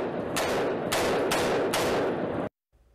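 Police gunfire during a bodycam-recorded stand-off with an armed suspect in North Las Vegas: four loud, sharp shots in rapid succession over a roaring noisy background, then sudden silence.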